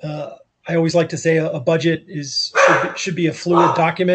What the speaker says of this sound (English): That's the dog behind me.